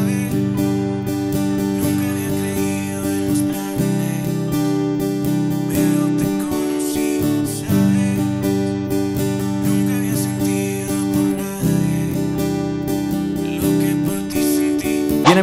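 Steady acoustic guitar strumming through the verse chords of a song, full and continuous with rhythmic strokes and no voice over it.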